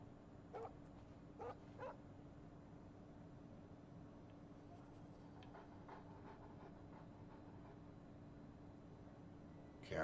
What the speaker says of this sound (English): I heard a dog